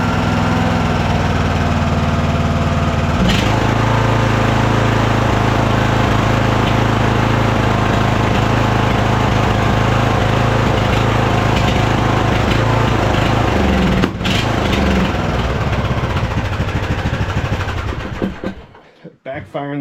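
A small, cheap tractor engine runs loud and rough close by, its low, uneven rumble broken by irregular backfire pops, then it sputters and dies near the end.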